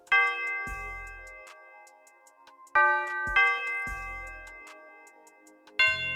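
A bright, simple bell melody rings in a looped synthetic beat, with deep bass hits dropping in beneath it at a steady tempo.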